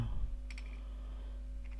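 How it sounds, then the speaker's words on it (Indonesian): A few soft keyboard clicks, typed with one hand, tap out quickly over a steady electrical hum, quiet and close. "Di sini saya mengetik satu tangan karena"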